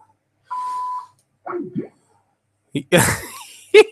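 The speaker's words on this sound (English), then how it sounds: "Please leave a message after the beep." A voicemail beep on an Xbox call sounds once as a steady electronic tone lasting about half a second, followed by short bursts of nearby voice and noise.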